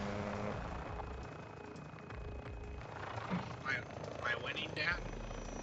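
A helicopter in the Modern Warfare video game thrums with a steady rotor drone, while players talk over it throughout.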